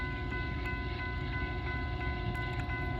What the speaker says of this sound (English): Looks like we got CN locomotives here on this train.